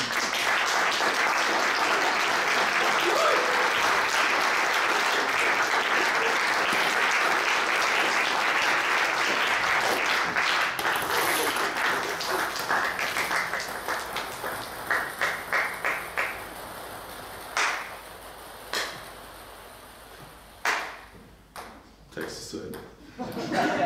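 A large audience claps in sustained, dense applause at an art event's closing, loud and steady at first, then thinning into scattered, fading claps and a few last isolated ones.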